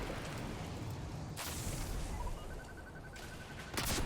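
Rocket launcher fire aimed at a boss in Destiny 2's K1 Logistics Legend Lost Sector: two loud, booming blasts stand out over a steady bed of in-game noise, with no talk.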